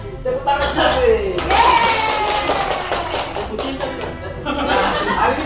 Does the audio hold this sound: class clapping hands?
yes